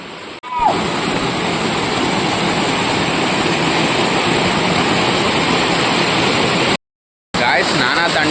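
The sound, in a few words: waterfall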